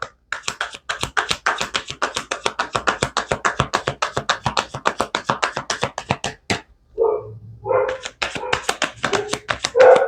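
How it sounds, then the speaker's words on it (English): Dogs bark outdoors in a rapid, relentless string of sharp yaps for several seconds, then pause before a few more scattered barks and short vocal sounds follow. "Sorry if you can hear these dogs out there."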